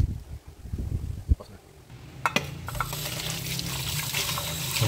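Shrimp for ginataang hipon are rinsed under a running tap, with water splashing and pouring in a sink alongside a few sharp knocks, while a person talks nearby.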